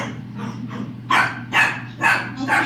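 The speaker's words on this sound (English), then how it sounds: "What are you barking at?" A dog barks four times in a steady rhythm, close and fairly loud, over a low background hum.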